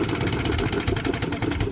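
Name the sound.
1976 Johnson 6hp outboard engine running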